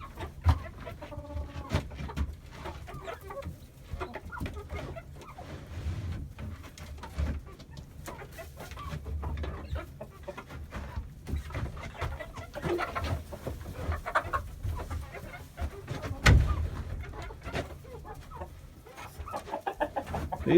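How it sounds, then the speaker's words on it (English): Older backyard chickens cluck and murmur steadily at close range throughout, with occasional louder squawks and coos over a soft low background. "These are my older chickens right here."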